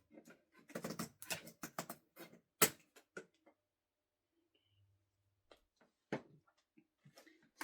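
Scissors cutting basket material, a rapid run of crisp snips and clicks, then a pause and a few scattered separate cuts, close and fairly quiet.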